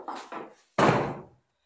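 Milwaukee Packout plastic toolbox lifted off a stacked set, giving two light clicks and then one louder hollow clunk as the latches release and the box comes free.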